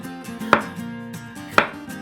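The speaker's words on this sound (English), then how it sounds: "Then you just need to cut them into smaller pieces like this" Cucumber is chopped into smaller pieces for a spicy Nyonya vegetable relish: two sharp knife strikes on a board, close and clear over faint background hum, with no talking.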